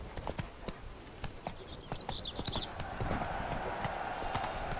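A horse in The Witcher 3 video game clip-clops at a gallop in a quick, uneven rhythm of hoof strikes. A faint whinny and some ambient noise sit underneath.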